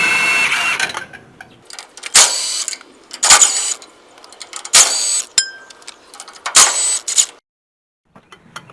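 A ratcheting hand tool loosens 9/16 lug nuts on a trailer wheel, giving repeated clicking, whirring bursts with short pauses and a final quiet stretch, close and fairly loud.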